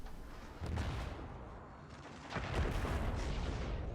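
Weapon shots in the space game Worbital, heard as two heavy booming blasts roughly two seconds apart, each followed by a loud rumbling wash of noise that carries through to the end.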